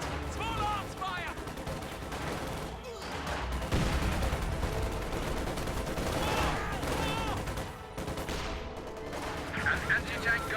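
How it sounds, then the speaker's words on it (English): Small arms fire crackles in a WWII strategy video game alongside MG-34 heavy machine guns, with dense overlapping bursts and scattered shots. A voice talks over the gunfire throughout. "Contact! Small arms fire!"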